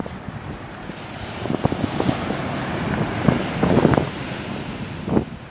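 Gale-force storm wind batters a microphone on the south coast of Ireland, a steady roaring rush with surf and waves churning underneath and louder gusts swelling near the end.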